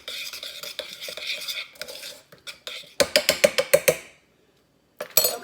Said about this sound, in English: I'm going to go ahead and just stir that in real good